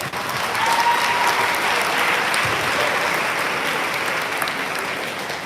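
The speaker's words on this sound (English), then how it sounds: "These guys deserve a round of applause." An audience at a bodybuilding posing clinic breaks into steady, even applause that fills the room for several seconds, with light crowd noise under it.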